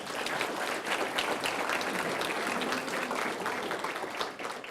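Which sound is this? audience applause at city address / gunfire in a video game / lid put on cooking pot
audience applause at city address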